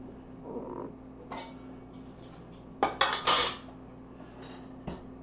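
A metal pot is handled and slid across a kitchen counter, making a few close clanks and scrapes in a short cluster, with a faint steady hum and a final light knock.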